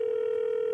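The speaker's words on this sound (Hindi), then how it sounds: "दूसरे कॉलर को फोन लगाते हैं" A steady, unbroken telephone dial tone plays as a call is placed to a caller on a comedy stage show, holding one clear, even pitch alone without voices.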